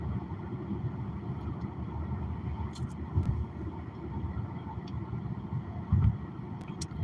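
Steady low rumble and road noise from inside a car driving along a country road past farmland, a constant close drone with a couple of slightly louder bumps and no talking.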